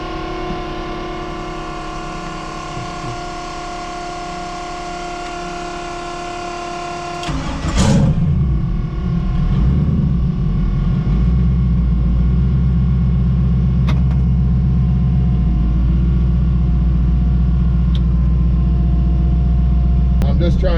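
Twin-turbo Camaro engine out on its first street drive: a steady idle-like drone and whine give way to a thump and a rise into a deeper, louder rumble that holds steady, close up, with a few sharp clicks and voices talking underneath.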